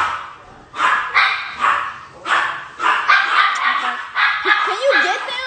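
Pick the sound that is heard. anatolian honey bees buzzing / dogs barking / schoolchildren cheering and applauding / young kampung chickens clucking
dogs barking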